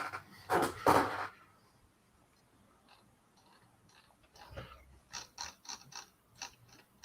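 A screw being driven into a Routemaster bus model kit, with a couple of louder clunks of handling first, then quiet clicking and a run of small ratcheting turns toward the end, close by with no talk.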